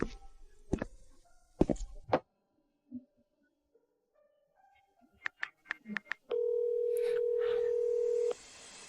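A phone call being placed, with soft clicks, a few short beeps, then a steady near tone lasting about two seconds that cuts off abruptly.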